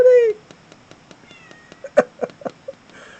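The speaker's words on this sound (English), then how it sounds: "I love my cats." A pet cat wanting to be let out gives one clear, close meow, followed by soft tapping and a few brief, louder sounds indoors.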